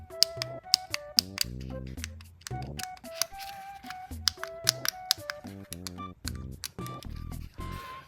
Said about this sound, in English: the shoulder buttons themselves have like a very distinct click